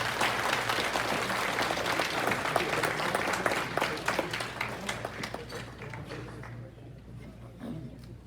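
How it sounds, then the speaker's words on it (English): An audience at a talk gives Richard McKinney, a former Marine, another round of applause. Thick, loud clapping from many hands holds steady, then thins and fades away over the last few seconds. "One more round of applause for Mr. Richard McKinney."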